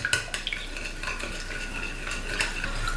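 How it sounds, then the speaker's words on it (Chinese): A spoon stirs sugar and cooking oil together in a bowl for youtiao dough, with steady scraping and clinking against the bowl and sharper clicks at intervals, close and alone without talk. "加入30克白糖，白糖的多少可以根据自己的口味来增加减，35克食用油， 把它们充分的搅拌均匀。"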